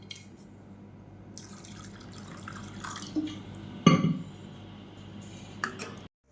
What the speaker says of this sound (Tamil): இப்போ வந்து இதில் கொஞ்சம் தண்ணி சேர்த்துக்கலாம்